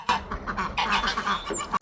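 A duck quacks repeatedly outdoors on a farm, loud close honking calls in a quick irregular series filling the whole moment.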